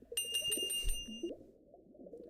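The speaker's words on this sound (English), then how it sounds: "A bell." A bicycle-style bell rings in quick repeated dings in the I Spy Fantasy video game, bright and close, then cuts off as soft low background sound and murmuring carry on.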